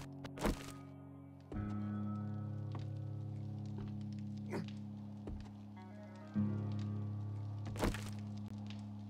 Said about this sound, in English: I'm felling trees